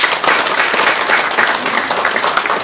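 Steady, full applause from a crowd at a ceremony of a world green climate association, continuous and fairly loud with no gaps.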